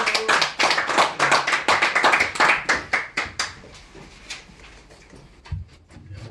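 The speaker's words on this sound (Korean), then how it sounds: "박수!" An audience at a real-estate investment lecture claps loudly and briskly, a dense burst of applause that thins out into a few scattered claps and then stops.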